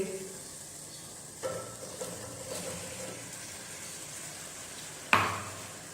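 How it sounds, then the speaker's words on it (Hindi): Cut potatoes go into a pan of sizzling masala, adding a soft, steady sizzle with a few stirring scrapes and a sharp clatter near the end. "अभी हम इसमें शामिल करेंगे आलू जो हमने काट के रख लिए थे"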